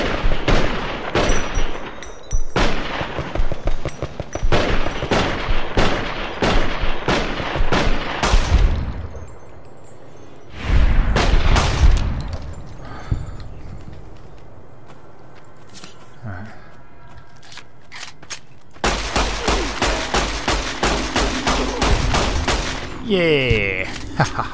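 Rapid bursts of gunfire at a turret in the video game Fallout, with dense volleys repeating across the span, a brief lull near the middle, then heavy blasts and more rattling fire, loud and close under talk.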